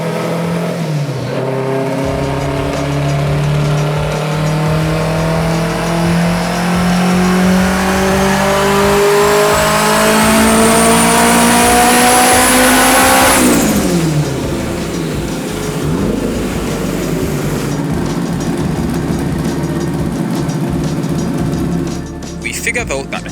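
Race car engine revving hard on a dyno during a pull on a turbocharged car held to 17 pounds of boost, pitch climbing steadily for about thirteen seconds before cutting back, then idling roughly, loud and close throughout.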